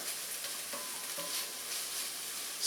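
Shaved rib eye searing on a flat top, giving a steady, close hiss of frying with faint stirring and scraping now and then, alone with no talk.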